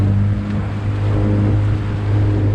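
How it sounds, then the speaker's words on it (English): A boat motor runs at a steady, loud drone with a strong low hum, wind and water noise blending in throughout and no voices. "The motor started right up, no problem."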